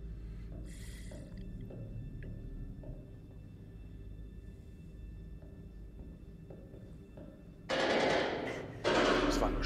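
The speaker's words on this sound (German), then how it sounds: "Schüsse" A long quiet stretch of faint ambient murmur, then near the end a loud burst of rapid gunfire in the video game Man of Medan, a brief pause, and another burst.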